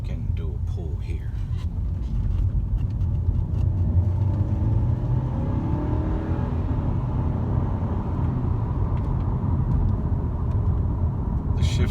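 A 2013 Mercedes C250 pulling hard onto a freeway, a steady loud engine rumble and road roar from inside the cabin, with a voice talking over it.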